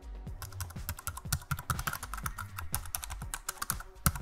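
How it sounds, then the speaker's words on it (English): Rapid close typing on a computer keyboard, a quick burst of crisp clacking keystrokes entering a short word into a search box, steady and alone with no voice. "We write ControlNet in this box."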